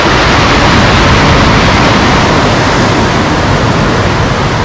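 Stormy sea waves break on the shore at Lazarevskoye, a loud, dense, continuous roar of surf and spray filling the whole stretch without pause or speech.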